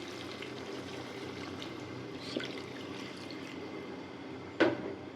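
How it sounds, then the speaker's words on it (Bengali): Water for the gravy is poured into a mustard hilsa fish curry in the pan: a soft, continuous liquid pour and hiss up close, ending in a brief clatter and splash. "এখন একটু ঝোলের পানি দিয়ে দিচ্ছি।"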